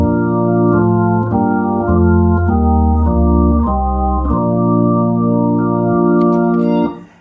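Hammond organ played with varied drawbar settings through a Leslie speaker, a loud, full sequence of sustained chords changing every half second or so, ending with a quick fade.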